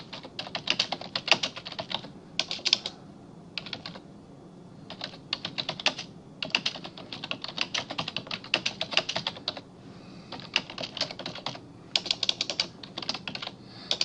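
Someone types a comment on a computer keyboard, producing bursts of rapid, crisp key clicks close to the listener, separated by brief pauses, with no talking.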